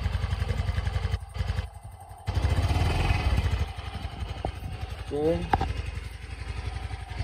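A 2023 Yamaha Grand Filano scooter engine, still new, idles with a low, even, smooth putter close by, while a person speaks briefly over it.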